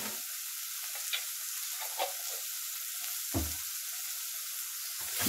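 Tomato paste sizzling in oil in a pan while a clean, dry spoon stirs it, producing a continuous hissing fry with light scraping touches at a moderate, even level and no talking.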